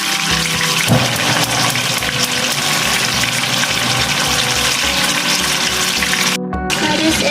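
Tap water runs steadily and loudly into a pot being filled for boiling pasta, a continuous close splashing rush with a brief dip near the end.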